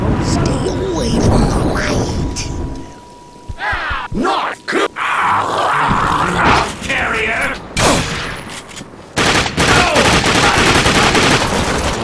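Gunfire in The Darkness 2: loud bursts of rapid automatic shots in clustered volleys with brief gaps, mixed with impacts and shouted voices in a chaotic firefight.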